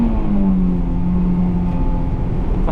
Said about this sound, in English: do what I wanted to the whole time and hear some VTEC